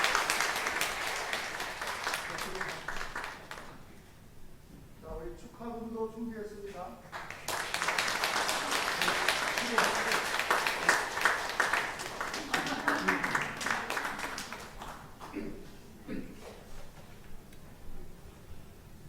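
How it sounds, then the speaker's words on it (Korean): A church congregation claps during a Sunday worship service in two bursts of scattered applause, with a voice speaking and singing-like tones between and under them at a moderate, somewhat distant level. "우리 박수로 한번 뜨겁게 축하해 주시기를 바라고 환영해 주시기 바랍니다"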